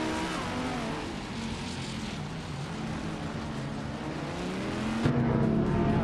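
2016 ADAS-03 Nissan LMP3 race cars roar in a racing video game at the start of a race at Marina Bay Street Circuit, a dense, continuous wall of engines revving, loud and steady, with a gear change near the end.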